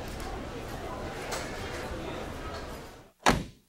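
A door bangs shut once near the end, a sharp, loud thud after a stretch of muffled background noise.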